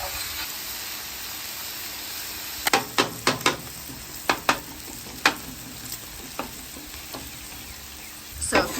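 Vegetables and ground beef frying on an outdoor griddle, a steady loud hiss of sizzling fat with a series of sharp metallic scrapes and taps from a spatula, clustered in quick bursts.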